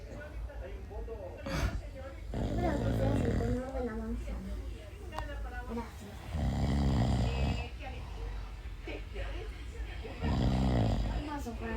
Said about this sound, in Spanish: Cuando duermen la siesta, el bebé y el papá ronca.